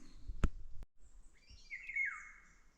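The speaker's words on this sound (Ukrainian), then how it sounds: "Є пташка гарно співає, зараз птахи це така рідкість." A songbird sings in a forest, a sharp click or snap near the start followed by a clear, bright warbling phrase, close and alone with no talking.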